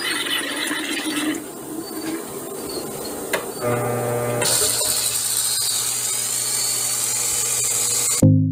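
A rotary tool fitted with a 200 grit abrasive sands a rock, giving a continuous high mechanical whine with grinding scrapes that gets louder and steadier partway through before stopping abruptly.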